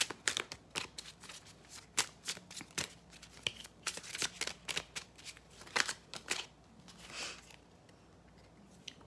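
A deck of oracle cards is shuffled up close, producing quick riffling bursts and soft, rapid card flicks in an irregular rhythm, fairly quiet and without talk.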